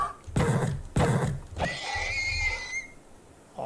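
A horse in a Minecraft-style block game gives a few short snorting bursts, then a long, high, wavering whinny up close and fairly loud, alone without talk.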